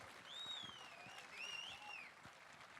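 A concert audience claps in a brief, fairly faint burst of applause, with a few high whistles rising above the clapping.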